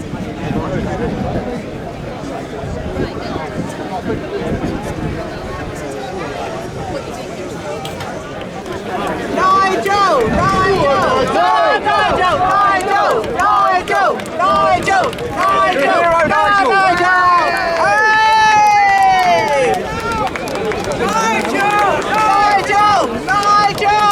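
Large crowd at a Reform UK rally in Clacton-on-Sea roaring and cheering, first under a speaking voice, then swelling into a louder sustained roar with shouts and whistles that runs to the end.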